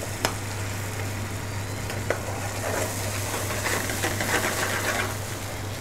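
Onions softening in a hot pan with a splash of curry base for lamb pathia in a curry kitchen: a loud, constant sizzle and hiss with occasional clinks and stirring scrapes, under a low kitchen hum.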